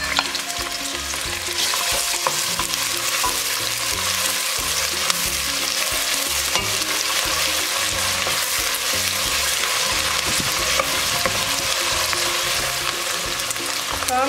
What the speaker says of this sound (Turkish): Yağımız ısındı ve hemen soğanlarımızı ilave ediyoruz.